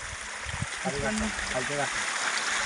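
Monsoon stream water flows toward a small dam in Konkan with a steady, moderately loud rushing wash, while a person talks briefly over it.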